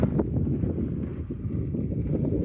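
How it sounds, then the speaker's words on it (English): Steady wind buffets the microphone on a mountain trail along the Pacific Crest Trail, a constant low rumbling roar with gusty fluctuations and no other sounds. "Sorry about the wind noise, everybody. It's windy."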